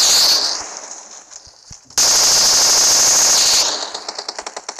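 Automatic weapon fire from the shooter game PUBG on a training map, loud close bursts of rapid shots that pause, resume strongly, then trail off into spaced single cracks.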